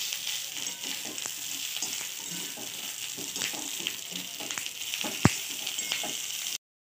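Bottle gourd vadi frying in a pan, giving an even, hissing sizzle with scattered light clicks of a utensil and one sharp tap near the end before it cuts off.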